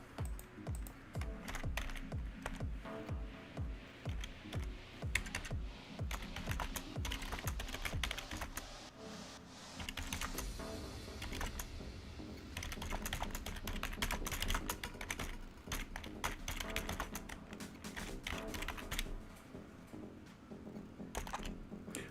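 Someone types on a computer keyboard, entering a search for a gaming channel, with rapid close key clicks in bursts throughout and short pauses between runs.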